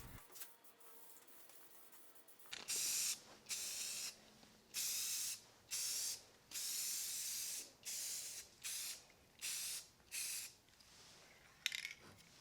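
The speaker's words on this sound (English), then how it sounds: "spray paint all the pieces black" Aerosol spray paint coating wood and copper sign pieces black, a quiet room opening into roughly nine loud, close hissing bursts of a second or so each, separated by short pauses.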